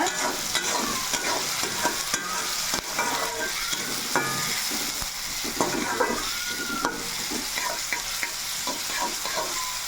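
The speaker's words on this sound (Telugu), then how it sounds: "టమాటా, ఉల్లిపాయ, పచ్చిమిర్చి, ఒక ఇంచు దాచిన చెక్క వేసుకొని బాగా ఎర్రగా వేగాలండి" Tomato, onion and green chili with a piece of cinnamon fry in a pan, a steady close sizzle with repeated stirring and scraping throughout.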